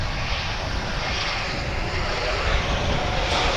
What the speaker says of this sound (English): Coming in from Tucson is American Airlines Flight 2193. Airbus A321.